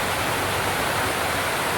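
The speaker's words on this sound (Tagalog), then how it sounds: "Narinig ko yung patak ng ulan" Heavy rain pours steadily during a typhoon, a dense unbroken hiss with no voices or other sounds.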